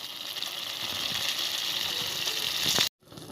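Water pours steadily into a pot of Konkani saalan curry with potatoes, a continuous splashing gush close by that stops abruptly near the end.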